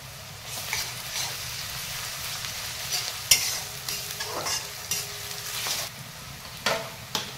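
Garlic paste and two dried red chillies frying in oil in a pan, a continuous sizzle with scraping stirs and occasional sharper clinks of a spoon, close by, no speech.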